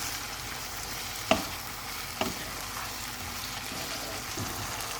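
Garlic chicken with vegetables fries on a high flame with a continuous hiss, broken by a few sharp clacks of a spoon against the pan.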